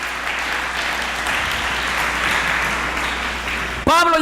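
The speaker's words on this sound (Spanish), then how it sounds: "Dar un aplauso a Jesús" A church congregation applauds during a sermon in a steady wash of clapping, which cuts off abruptly near the end as a loud voice breaks in.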